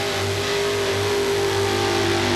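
A 4WD pulling truck at a 1995 NTPA truck pull in Naples labors under steady throttle, a loud continuous engine drone with a sustained mid-pitched tone and constant rumble throughout.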